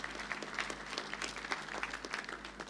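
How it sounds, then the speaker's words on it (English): Applause at a university graduation ceremony, steady moderately distant clapping from the audience that continues evenly without pause. "Let us applaud them"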